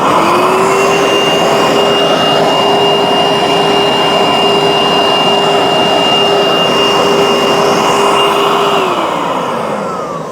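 Bissell SpotBot pet spot cleaner running, a loud steady motor whine and suction rush held for about nine seconds, then winding down at the end.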